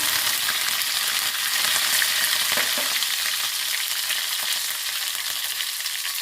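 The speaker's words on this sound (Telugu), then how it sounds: "ఇప్పుడు కరివేపాకు వేస్తున్నాను" Curry leaves hit hot oil with mustard seeds and dried red chillies for a dal tempering, making a loud, continuous crackling sizzle with light stirring and no talk.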